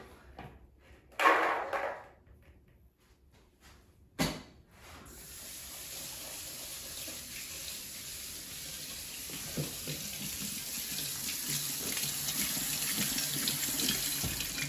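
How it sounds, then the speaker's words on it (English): Water runs steadily from a tap over a can's worth of drained chickpeas in a sink after a few clattering handling noises, a continuous hiss of flow close by. "I'm going to drain and rinse a can of chickpeas"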